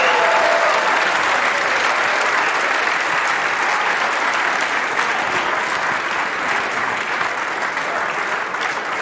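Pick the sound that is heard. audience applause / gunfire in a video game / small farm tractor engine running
audience applause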